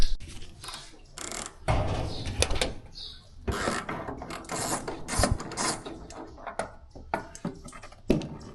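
Ratchet with a Koken nut grip socket working on an FJ60 Land Cruiser during differential and transfer case seal work, with rapid clicking and mechanical clatter in short uneven bursts, close up and fairly loud.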